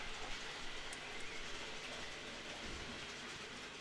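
A BR large logo blue Class 37 model locomotive runs on a layout with a steady, close rolling rumble and faint clicking of wheels over track joints, continuous with no pauses.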